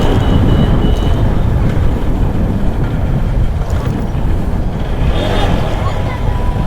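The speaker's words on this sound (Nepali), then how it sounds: "कस्तो बाइक पनि घ्याङ घ्याङ गरिरहेछ है घ्यार घ्यार घ्यार घ्यार गरिरहेछ" Steady, loud low rumble of a motorcycle being ridden, its engine rattling under continuous road and wind noise without a break.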